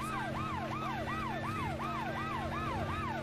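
Vehicle siren in the video game Scarface: The World Is Yours, a loud, close wailing siren sweeping up and down in rapid, regular cycles over a steady engine hum, with no talk.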